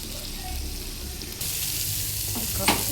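Fish fries in a pan and is stirred now and then. The sizzle swells louder partway through, and a brief scrape of the utensil comes near the end.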